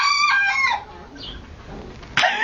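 Farm chickens clucking and calling up close, a burst of bright clucks at the start, quieter barnyard murmur, then another loud squawk near the end.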